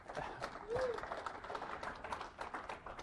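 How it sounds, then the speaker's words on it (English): Audience applause for presenter Nick Scott at a Nagios conference talk, a dense wash of clapping from a seated crowd that fills the whole moment, with a brief voice or whistle rising near the start. "So if I get a nice big round of applause for Nick Scott."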